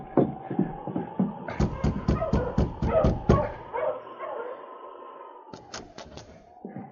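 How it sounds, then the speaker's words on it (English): A team of sled dogs barks and yips in an old radio drama, a cluster of sharp rapid barks in the middle and a few more at the end, with whining tones underneath, moderately close and without speech. "a bearded man traveling by dog sled halted his team in front of the cabin"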